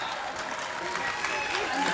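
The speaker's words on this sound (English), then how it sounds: "if this is the kind of applause you're going to give, I mean, come on, clap hard" An audience at an India Day event applauds in a brief, steady wash of clapping while a voice talks over it.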